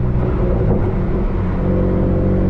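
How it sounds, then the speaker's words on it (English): BMW M3 engine running during a manual shift into fourth gear, a loud close rumbling drone from inside the car that dips briefly and then holds steady. "We can shift into fourth"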